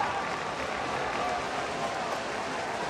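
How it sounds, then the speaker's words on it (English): Light, scattered golf clapping from a distant soccer stadium crowd forms a steady wash of noise, with faint voices mixed in. "a little golf clap at the end of this for Aleman."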